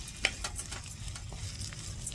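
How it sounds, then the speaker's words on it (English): Potatoes with turmeric stirred in a pan, quiet scraping and light sizzle with a small clink of the spoon near the start, fairly faint and without talk. "We'll give it a mix."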